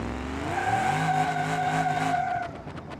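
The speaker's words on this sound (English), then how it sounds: "This thing is a lot of wheel hop." A Crusher Moonhawk car in BeamNG.drive hops and chatters its tires under hard acceleration down a drag strip, a loud squealing, skidding engine note that sweeps in pitch, then fades slightly at the end.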